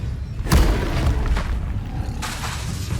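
A deep boom from the Expelliarmus spell in Hogwarts Legacy lands with a heavy thud, followed by a rumbling tail and a second softer burst near the end.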